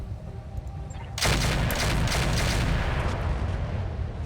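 A gun in a video game, aimed at an enemy, starts abruptly after a quiet second, then keeps up a dense, roaring barrage of rapid fire, loud and close, that carries on to the end.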